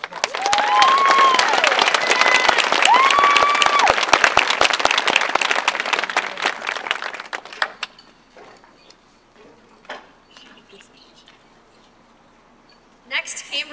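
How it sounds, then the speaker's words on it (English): Audience applause at a Beechwood event, loud, dense clapping with some cheers lasting several seconds, then fading to quiet room noise with a brief shuffle at the end. "let's give them another round of applause"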